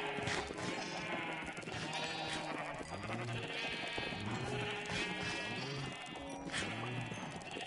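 Repeated Minecraft sheep bleats from a pen full of fed sheep, a dense overlapping chorus of calls at a steady level with no talking.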